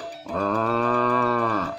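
A person gives one long, steady, nasal lowing call, imitating a water buffalo, held for about a second and a half.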